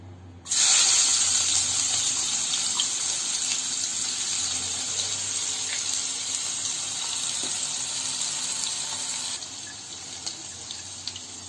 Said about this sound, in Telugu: ఇప్పుడు ఆనియన్స్ను వేసుకుందాం.